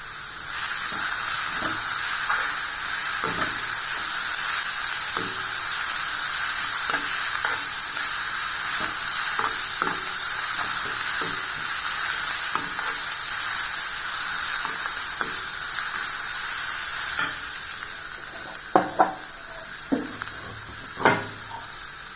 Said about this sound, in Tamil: இப்போ நல்லா வதங்கிட்டுங்க